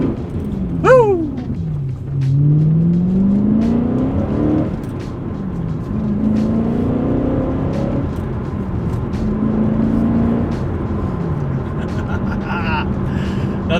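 A BMW M3 engine, freshly fitted with new rod bearings, revs up and settles several times, a loud rising whine followed by steady running, with brief speech at the start.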